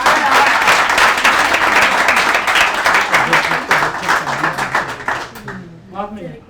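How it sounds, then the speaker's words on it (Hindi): Audience applause at an evening poetry gathering, a dense wash of many hands clapping loudly and steadily before thinning out, with a voice starting to speak as it fades. "डॉक्टर साहब के लिए जरा तालियां बजा दें यार।"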